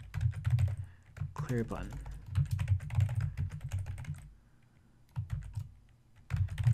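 Rapid clicking of a computer keyboard as code is typed for a React.js calculator, steady bursts of keystrokes that pause briefly and resume, heard close under a man's speech.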